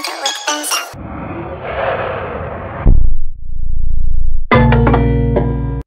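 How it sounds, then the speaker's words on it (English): A song played back at shifting speeds, jumping from bright clinking sections to a dense smeared stretch, then a deep slowed-down drone before snapping back to normal-speed music; loud and without speech. "The second audio file is the first audio file, but with varying speeds throughout."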